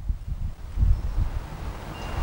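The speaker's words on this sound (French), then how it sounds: "malgré le vent." Wind buffets the microphone outdoors in a steady low rumble that swells and eases, close and moderately loud, with no talk.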